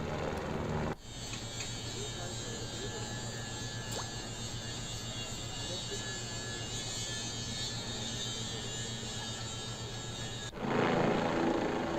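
Helicopter ferrying pilgrims to Kedarnath Dham, a continuous loud rotor and turbine drone with a steady low thrumming beat, close and unbroken for most of the stretch before cutting to other ambience.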